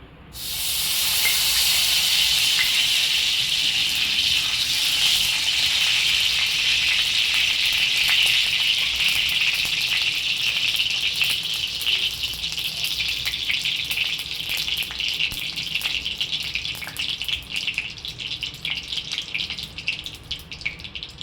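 Loud, steady sizzling of spices tempering in hot ghee for kulith (horse gram) pithla, a bright hiss that carries through the whole stretch and only slightly thins toward the end.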